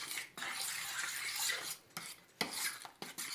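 Seasoned pork is stirred into butter in a pan with a utensil, giving close scraping and clattering strokes in uneven bursts with short gaps, no speech.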